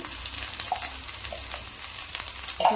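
Ginger and garlic fry in a pan of hot oil with rice nearby, giving a continuous close sizzle with small crackles and pops throughout, no voices.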